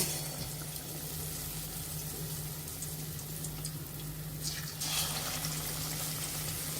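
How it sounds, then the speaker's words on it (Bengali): Battered eggplant chops fry in hot oil with a steady, close sizzling hiss over a low hum, swelling slightly louder near the end. "এখন তেলে ভেজে আমরা এখন বেগুনের চপগুলো দিয়ে দিব।"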